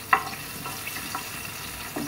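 Chopped garlic and cumin hit hot oil on a tawa, making a soft, close sizzle with a few light stirring clicks.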